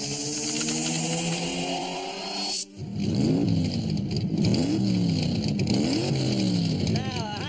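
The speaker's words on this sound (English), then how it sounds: "Race car doesn't exactly operate like the family minivan." A race car engine revs and accelerates loudly up close, its pitch climbing in repeated sweeps after a brief cut, with a steady high whine throughout and no talk over it.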